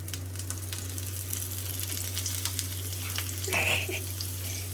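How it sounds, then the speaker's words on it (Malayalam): Four sardines (chaala) sizzle in shallow hot oil, a close, steady crackle with scattered pops and one brief louder spatter near the end, over a low constant hum. "ഞങ്ങൾ മീനൊക്കെ ഇട്ടിട്ടുണ്ടെങ്കിൽ ഇതൊന്ന് ഫ്രൈ ആവുന്ന വരെ നമുക്ക് വെയിറ്റ് ചെയ്യാം"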